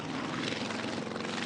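A small homebuilt light aeroplane's propeller engine buzzes steadily and faintly at a distance, a continuous drone with no voices.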